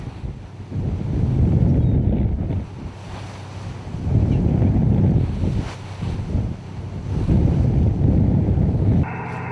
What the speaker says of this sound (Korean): 밤사이 파도가 점차 거칠어지기 시작한다.